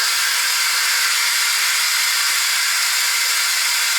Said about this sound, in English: I'm going to flick that and the steam is going to come out here